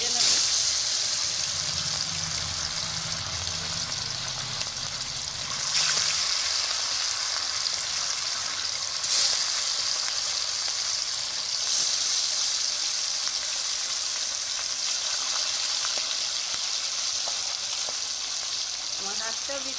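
Pieces of silver carp fish frying in hot oil in a home kitchen, giving a steady, close broadband sizzle with small surges for about twenty seconds and a faint low hum early on.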